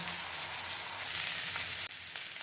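Carrots, cauliflower, beans and green chili frying in a pan, a soft, even sizzle with a brief dip near the end, fairly quiet and with no voices.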